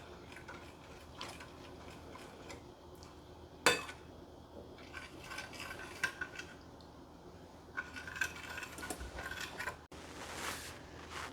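Kofta meat mixture stirred in a bowl, producing quiet, irregular scraping and clinking of a utensil against the dish, with a couple of sharper knocks standing out over steady faint background.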